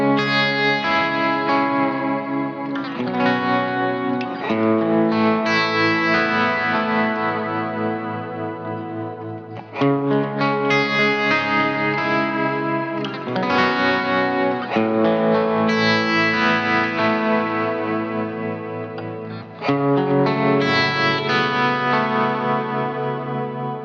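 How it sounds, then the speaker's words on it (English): Gretsch hollow body electric guitar with a Bigsby vibrato, strummed in full chords with chorus and echo effects and a slight overdrive, phrases repeating in waves with no talking over the playing. "Let me play a couple of things on the Gretsch"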